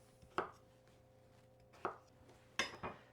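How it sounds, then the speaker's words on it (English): A knife cuts a rutabaga into large pieces on a board, giving three separate crisp chopping thuds spaced out over a few seconds, close and clear with no talk. "So now we'll just cut this rutabaga in pretty big pieces because we're going to boil it."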